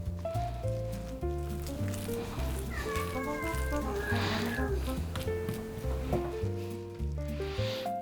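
A house cat complains indoors with drawn-out meows, mixed in with steady background music and kitchen sounds.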